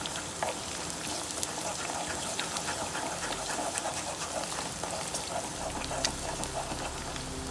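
Beaten eggs go into a pan of frying chicken rice, giving a continuous crackling sizzle with scattered pops and light stirring scrapes, close and steady, with no speech.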